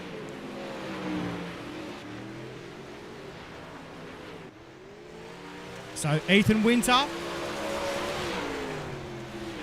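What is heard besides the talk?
sprint cars racing around a dirt track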